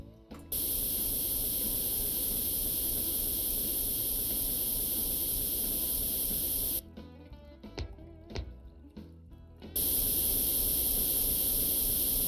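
Spray painting a Sherman tank in a tank mechanic simulator game: a loud, steady airy hiss of paint spray held for several seconds, cut off by a few seconds of quieter handling clicks, then resuming.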